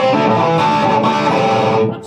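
A loud, distorted electric guitar lick played through a Marshall Plexi amp head, a dense, driven rock tone sustained for about two seconds before cutting off.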